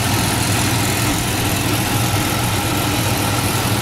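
A 1970 Chevy Monte Carlo with a 350 two-barrel V8 idling, a steady low rumble with even, continuous engine vibration, close and loud, with no voices.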